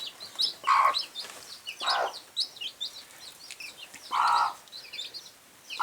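Broody hens cluck softly among their chicks as they teach them to feed, with bursts of clucking and high chick peeps repeating throughout, fairly close and with no talking.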